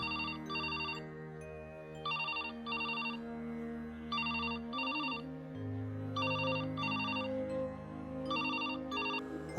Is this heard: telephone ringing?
yes